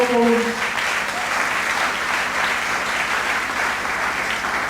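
A church congregation breaks into sustained applause, a dense, loud wash of clapping that holds steady throughout, with a brief voice at the very start.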